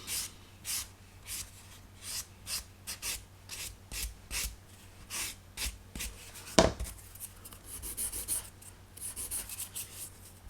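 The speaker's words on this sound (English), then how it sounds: "I think we can deal with most of it with a sanding sponge" Steady back-and-forth scrubbing of a 400-grit sanding sponge against a plastic model seam, quick rhythmic strokes repeating throughout, close and fairly quiet, with one sharp knock midway.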